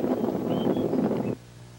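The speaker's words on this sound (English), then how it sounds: "It's windy again." Wind gusting across open countryside, a steady broadband rush that buffets the microphone for over a second before cutting off abruptly into near quiet.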